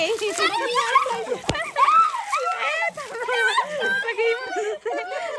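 Kids' excited voices and laughter over splashing water, with a sharp splash midway; playful, close, and busy throughout.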